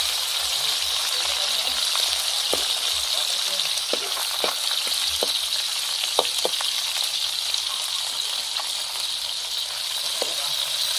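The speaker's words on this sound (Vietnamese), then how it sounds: "Nghe xèo xèo đã quá ha." Snakehead fish sizzling as it fries in hot oil, a constant loud hiss with scattered sharp pops and crackles throughout.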